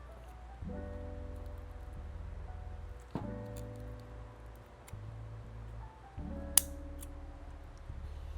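A dahlia tuber being cut away from its stem and crown, heard as a few faint, crisp snips and cracks spaced several seconds apart over a quiet, steady background.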